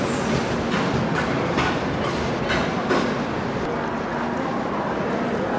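A Humsafar Express train rolls through a station with a steady, loud rumble and faint clicking of wheels on rails, continuous for the whole stretch with no talking.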